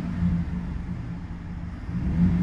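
A truck engine idles and is given a little gas after a cooling system flush, a close low steady drone that swells slightly as it revs toward the end.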